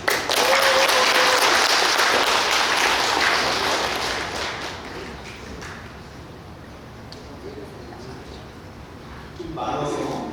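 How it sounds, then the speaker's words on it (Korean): Crowd applause at a Buddhist temple ceremony at Hwangryongsa in Incheon, a loud burst of many hands clapping that slowly fades over several seconds, with a brief swell of clapping again at the end. "박수"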